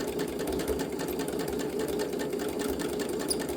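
A sewing machine runs steadily, stitching scrap fabric hearts with a thicker stitch setting, its fast even mechanical whir continuing close and loud throughout with no talk.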